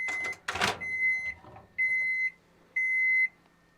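A microwave oven beeps three times, each a steady electronic tone of about half a second spaced roughly a second apart, following a brief clatter; moderately loud and close with no talking.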